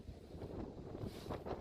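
Wind gusts across a lake during kayak bass fishing, heard as faint, low buffeting rumble on the microphone for a brief moment, with no voices.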